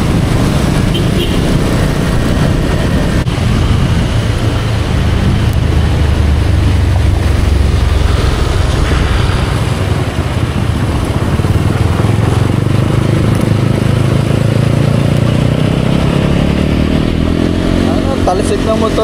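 A boat motor runs loud and steady with a constant low drone and engine rumble, out on a flooded canal in stormy, rainy weather during a fishing trip, and people talk over it.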